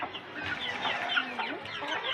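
A rooster clucks in a steady, close run of throaty calls that continue throughout, with no voices present.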